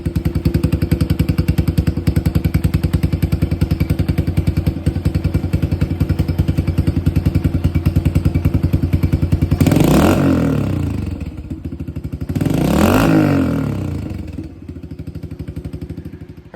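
A Kawasaki KLX110R dirt bike with an aftermarket Big Gun Evo exhaust idles with a loud, rapid popping rumble, then revs sharply twice in quick bursts before settling back down.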